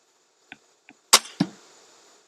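A crossbow bolt strikes a target with a sharp, loud thwack, preceded by two faint clicks, followed by a second impact and a short fading rattle; no voices.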